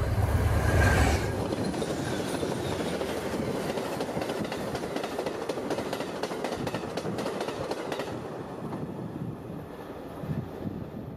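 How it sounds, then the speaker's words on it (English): Amtrak-style passenger train 91 rushes past close by at speed in Central Florida, a loud sustained roar of wheels with rhythmic rail clatter and wind buffeting that slowly fades; no clear horn blast stands out. "a wave from Mr. Sean, a blow of the horn, and 91 speeds into Tampa"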